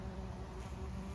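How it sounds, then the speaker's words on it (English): A bee buzzing among Monarda flowers in a zone 5 summer garden in Ottawa: a steady, continuous droning hum, fairly close and even in level, with no voices. "Just want to get the bee."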